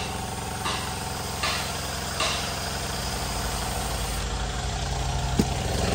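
A small pesticide sprayer engine runs at a steady idle, its low, even drone holding close and constant throughout, with a couple of faint knocks on top and no talking.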